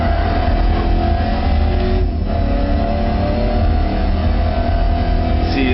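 BMW M3 E92 engine from Gran Turismo 5 Prologue holding high revs in a low gear, a loud, steady, dense mechanical roar that stays strong and unbroken throughout.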